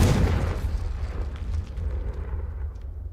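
Fiery Confringo spell explosion in the Hogwarts Legacy video game, a loud booming blast at the start that rolls into a sustained rumbling roar with crackling debris for the rest of the moment.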